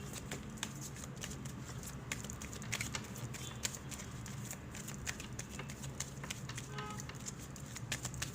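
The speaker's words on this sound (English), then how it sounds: "we'll pull out some romance angel cards, Capricorn, for this." Romance angel oracle cards being shuffled and pulled from the deck, soft rapid riffling and flicking taps close up, fairly quiet with a faint steady background.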